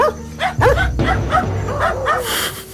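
A dog barks and yelps in a sequence of sharp, loud, close barks with whimpering, several bursts in quick succession in a recorded home video.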